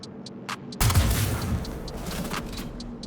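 Atzkav sniper rifle fired in the video game Star Citizen: a single sharp, loud blast with a rolling tail, preceded by faint clicks.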